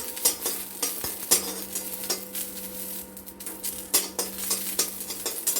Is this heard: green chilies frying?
yes